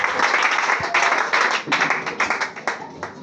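A church congregation at a glorious prayer service clapping loudly and steadily in rapid applause, close and dense, with scattered cheers and a voice speaking over it.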